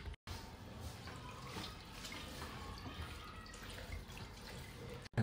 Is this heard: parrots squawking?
no